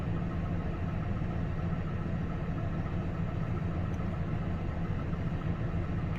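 A car engine idles steadily with a low, even rumble and slight vibration, continuous throughout with no talking; the engine has lean bank codes and a fuel rail pressure fault.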